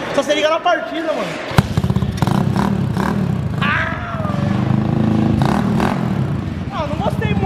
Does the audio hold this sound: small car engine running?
yes